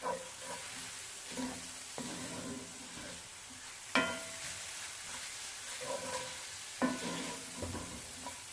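Garlic sautés in a pan for a creamy garlic chicken dish, making a constant close sizzle broken by occasional louder stirring scrapes every couple of seconds.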